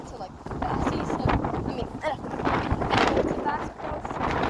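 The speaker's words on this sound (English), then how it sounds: "The wind is pushing me back." Strong outdoor wind buffets the microphone in a constant heavy rumble with gusty surges, mixed with voices talking over it.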